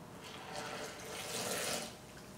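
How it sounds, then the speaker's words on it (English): Water poured into a blender, 1¼ to 1½ cups added for pancake batter, a steady soft rushing stream that swells mid-pour and then eases off, alone and fairly quiet. "Then you want to add a 1 1/4 to 1 1/2 cups of water, depending on how thin you want your pancake batter."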